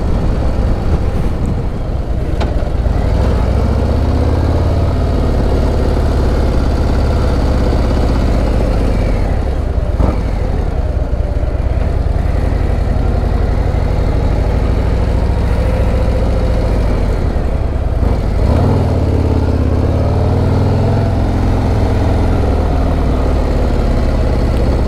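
A 2024 Harley-Davidson Road Glide motorcycle engine rumbles deep and steady from onboard, swelling as it re-accelerates in third gear at low revs, with a few brief throttle surges and no talking.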